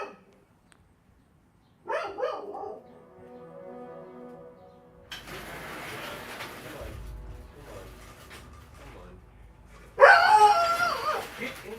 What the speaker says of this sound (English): Pond, quit barking at the neighbors, dude.